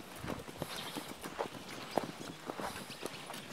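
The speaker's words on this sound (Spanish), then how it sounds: "Caballo." Horse hooves clip-clop at a walking pace, a run of quiet, evenly spaced knocks over a soft background hiss.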